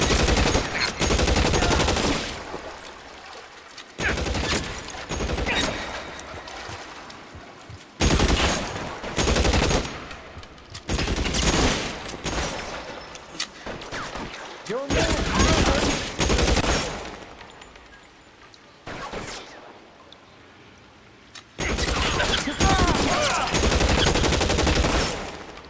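Bursts of rapid gunfire from the VR game LA Noire VR, dense loud volleys repeating in clusters with brief gaps between them, close and dominant throughout.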